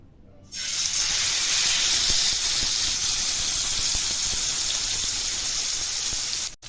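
Chicken hits hot oil in a pan with a sudden loud hiss, then sizzles steadily and evenly for several seconds before cutting off abruptly.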